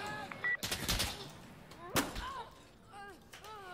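Gunfire in a video game about a Cuban insurgent fighting the Castro regime: a few sharp shots and a crackling burst at moderate volume, with voices calling out between them.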